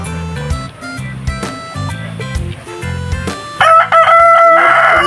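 Crossbred rooster crowing loudly and close by, preceded by a series of clucking calls from the same fowl, the long crow rising near the end.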